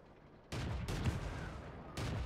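Tank cannon fire in World of Tanks arrives as sharp, heavy bursts: a loud blast at half a second, another crack near the one-second mark, and a third shot just before the end, each with a short rumbling tail.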